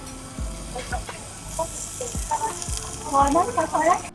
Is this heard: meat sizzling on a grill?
yes